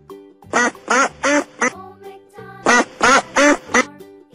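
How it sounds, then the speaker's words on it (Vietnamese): A duck quacks loudly in two close bursts of about four quacks each, with a short pause between them and no other sound. "Con vịt."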